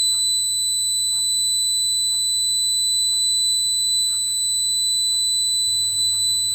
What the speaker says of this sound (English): it relies on an active buzzer type SFM20B, which works well in all circumstances